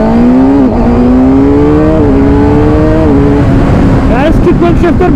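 A Kawasaki ZX-6R sportbike engine revs loud and close near a highway toll, its pitch climbing and dropping through rapid gear shifts before a burst of higher revving at the end.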